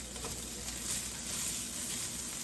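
Potatoes fry in a pan, giving a steady, close sizzle that stays even and unbroken throughout, with no talking.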